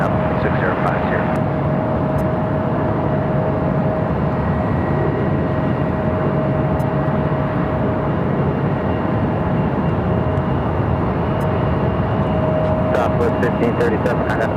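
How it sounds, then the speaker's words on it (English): A Southwest airliner taking off from runway 7 left at Phoenix Sky Harbor, a steady, loud broadband jet roar that holds throughout with voices talking over it. "Southwest runway 7 left clear for takeoff"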